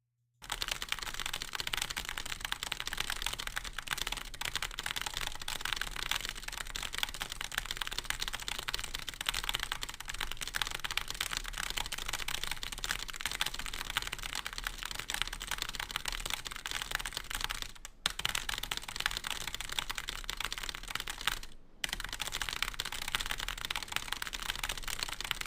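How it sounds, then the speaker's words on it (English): Rapid typing on a computer keyboard at a world-record pace of 272 words per minute, heard as a dense, unbroken clatter of keystrokes that stays steady and close, with only two brief gaps. "There's a new world record typing, and it's 272 words per minute."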